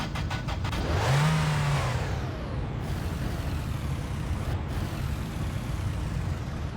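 A car engine in the Finnish life-sim game My Winter Car cranks, catches and revs up loudly, then settles into a steady rough idle that runs on alone.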